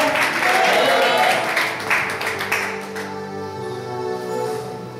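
A church congregation breaks into loud applause and clapping that fades out after a few seconds, leaving a sustained music tone with a lingering room echo.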